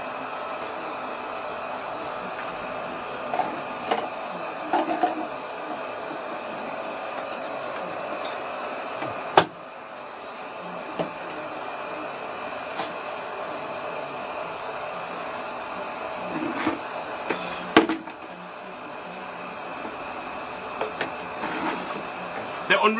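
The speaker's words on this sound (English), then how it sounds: "The only reason I'm using a dryer is for you." Hair dryer blowing on natural hair, a continuous close whirring hum with occasional clicks and bumps as it moves, with no talk over it.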